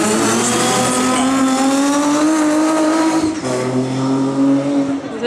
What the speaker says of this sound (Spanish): Don Ignacio Cabezas, pilotando este GT, este espectacular Nissan 350 GT.